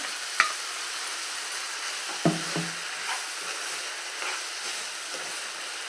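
Grated coconut frying with amaranth leaves in a pan, a soft steady sizzle broken by a few scraping stirs, fairly faint and with no voices.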